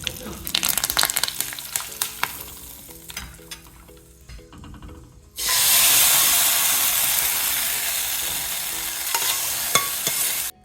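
Urad dal, a pinch of hing and curry leaves tempered in hot oil for a street-style idli chutney. Scattered pops and crackles come first, then a loud, close, sustained sizzling hiss bursts in halfway through and keeps going.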